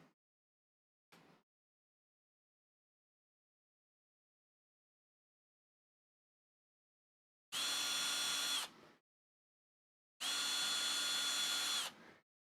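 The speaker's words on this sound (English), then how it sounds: "because the reamer ensures that we get a perfectly round hole" A reamer bores a round hole in a model kit part, two separate whining power-tool bursts, each about a second or two long, close and loud against near silence, after a couple of faint clicks.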